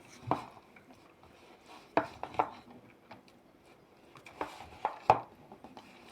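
A Ukrainian 'hedgehog' salad with a clove of garlic is mixed in a bowl, giving sparse, separate clinks and taps of a utensil against the dish, fairly quiet, with no talking.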